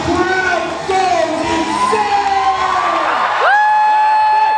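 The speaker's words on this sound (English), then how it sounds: "And the crowd goes" A festival crowd cheers and shouts loudly throughout, rising toward the end into sustained high whoops and screams.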